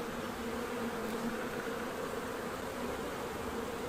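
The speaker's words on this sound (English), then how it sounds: "It's just unbelievable the amount of bees in this hive." Honeybees in an open spring hive give off a dense, even buzzing hum that stays constant and fairly faint throughout, with no voices.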